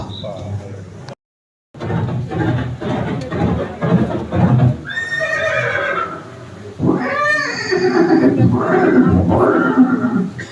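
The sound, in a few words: horse neighing in a scene about Maharana Pratap's horse Chetak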